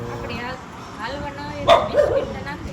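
Dogs give a few sharp barks and yips partway through while being fed, under people talking nearby.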